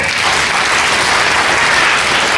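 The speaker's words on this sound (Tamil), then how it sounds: "உங்களுக்கு சிறப்பான ஒரு கைத்தட்டு" Audience applause at a book fair event in Viluppuram, a steady, dense wash of many hands clapping continuously and loudly, with no talk over it.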